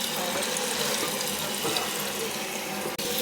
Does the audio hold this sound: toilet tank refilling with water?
yes